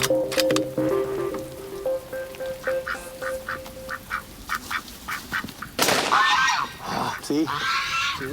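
Geese in the Outer Hebrides, a run of rhythmic honks and quacking calls at middle distance, with people talking nearby and a loud rustling burst toward the end.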